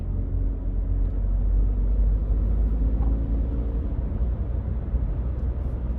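A car engine revs high while driving, a loud, steady low rumble that holds through the whole stretch with no break and no talk over it.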